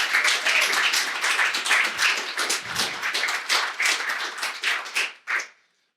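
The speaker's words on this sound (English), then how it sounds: "let's give us all a round of applause for being here and caring" Conference audience applause, a dense burst of clapping from a sizable crowd that holds steady, then thins into a few last claps and stops abruptly.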